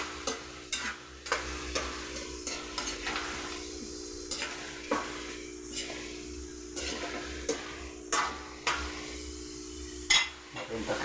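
A spoon stirs pork hock adobo in a pot, with repeated scraping clinks against the metal at an uneven rhythm over a soft sizzle and a steady low hum.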